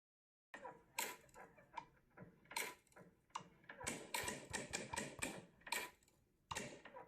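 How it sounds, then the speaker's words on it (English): Rapid wooden clacks and knocks, many sharp hits in quick irregular bursts, fairly close and loud, with no talking. "This is the sound unfiltered of the cabinet door"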